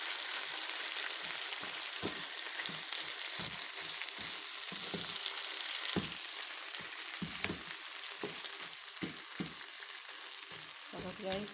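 Mung beans cooking in coconut milk are stirred in a pot, soft irregular scraping and knocking strokes over a continuous bubbling sizzle.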